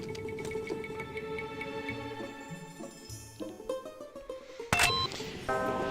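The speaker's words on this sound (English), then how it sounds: "learn to duck out of sight the moment you hear the distinctive whine of the lens turning" A security camera lens in the video game No One Lives Forever 2 whines as it turns, giving thin rising and stepping tones amid layered game music and effects, with a sharp burst near the end.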